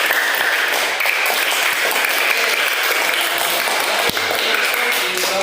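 Students in a classroom teaching practice session applaud two presenting groups with sustained, dense clapping that runs steadily for several seconds.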